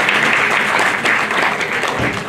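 Women's audience at a Home Minister prize program in Karad giving dense, loud, sustained applause throughout.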